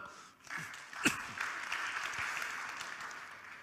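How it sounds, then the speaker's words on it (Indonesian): A church congregation claps during a Sunday service, a brief burst of applause rising and then settling into a steady, moderate patter that fills the room. "Puji Tuhan, tepuk tangan dong."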